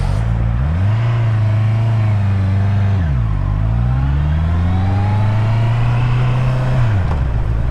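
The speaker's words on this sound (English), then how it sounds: "The way I'm enjoying riding this bike," A 2021 Honda CBR650R motorcycle is ridden, its engine a close, steady drone that rises and falls as revs change, with brief dips between gears.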